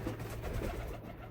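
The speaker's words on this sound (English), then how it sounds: "There goes the pigeons." Pigeons cooing softly outdoors in a short, faint burst of low murmuring calls over background noise.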